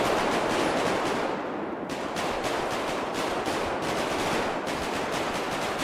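Dense, continuous automatic gunfire from a 4v4 online shooter match, loud and close, with rapid overlapping bursts and only a brief dip in the middle.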